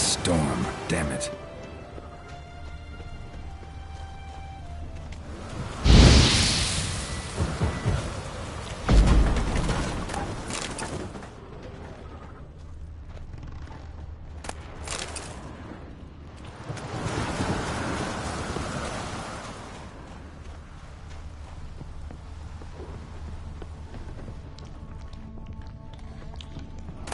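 A thunderstorm in the video game The Witcher 3 brings steady rain and several loud thunder crashes and long rolls spread over the stretch, with a person talking throughout.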